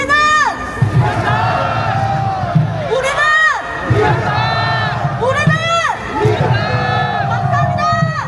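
At a Hannam-dong rally against an impeachment, a large crowd shouts a slogan back in repeated, rhythmic rounds. The loud massed voices swell and fall in regular waves.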